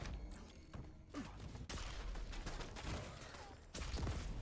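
Gunfire in Quake during a QuakeCon 2019 match, a dense fusillade of shots and thumps over constant game noise, with a brief louder burst near the end.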